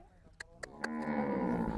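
A cow lets out a long, loud, drawn-out moo nearby, preceded by a few sharp clicks or knocks.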